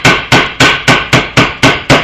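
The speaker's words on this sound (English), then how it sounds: "I'm going to go ahead and give it a little tap for good measure" Eight loud, regular taps from a dead blow hammer seating a final gear bearing on a Kymco Super9 scooter, each a close, heavy thud with a short decay.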